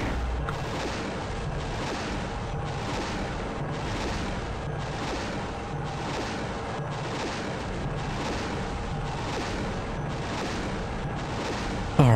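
Steady, heavy tank artillery fire in the Helicops game, a continuous rumbling barrage of repeated booms at an even rhythm, loud and dense throughout with no talk.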